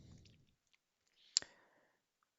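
A single crisp click, close and fairly quiet, with a faint rustle around it in an otherwise near-silent room; it fits a computer mouse button being pressed once.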